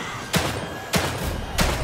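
Three pistol shots fired in the horror video game The Evil Within 2, each a loud punchy blast with a low thump, evenly spaced about half a second apart, with no talk between them.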